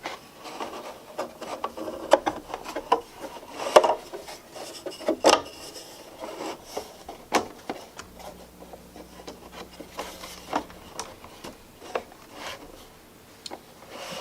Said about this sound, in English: And then you line up your back piece and you get the sides into their notches.